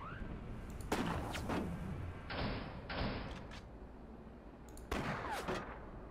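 Sniper shots fire in the video game Forts. Several sharp, booming cracks with ringing tails occur in two bursts, alongside a few mechanical clanks over a soft background.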